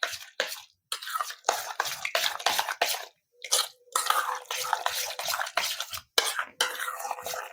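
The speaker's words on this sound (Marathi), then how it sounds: "याला आता 1 चम्मचने चांगलं मिक्स करून घेऊया" Salted yogurt batter mixed with a spoon, a run of close, wet, irregular scraping and sloshing strokes separated by brief pauses.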